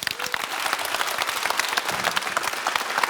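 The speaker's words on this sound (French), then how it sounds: "Laurent, on peut l'applaudir tout de suite." Dense audience applause in a studio golf lesson show, a steady wash of many hands clapping at close-to-moderate distance, sustained and even throughout with no speech over it.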